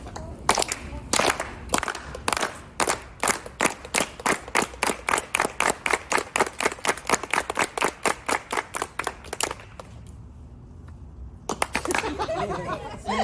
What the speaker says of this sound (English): we're gonna start with the Unity clap just to kind of get everybody going and just ground ourselves